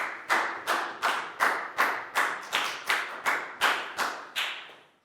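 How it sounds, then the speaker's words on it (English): About ten evenly spaced claps ring out in a classroom as a Year 4 class applauds a pupil, each sharp and separate with a short decay, fairly close, then stopping. "High five and a big round of applause for Nadia"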